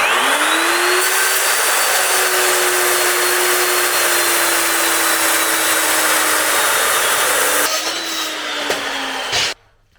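A power saw blade whines at a steady high pitch as it cuts through pieces, running loud and constant for about nine seconds before it cuts off abruptly.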